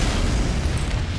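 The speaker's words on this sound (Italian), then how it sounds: "Le esplosioni del razzo possono danneggiare bersagli multipli" A rocket launcher explosion in the video game Team Fortress 2 makes a loud, dense, rumbling blast that fills the whole moment without a break.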